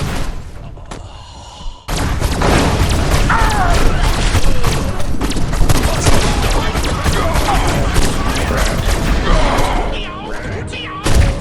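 Alien ray-gun blasts and booming explosions in the Destroy All Humans remake, a sustained loud barrage of shots, thuds and blasts after a quieter opening, with game voices mixed in.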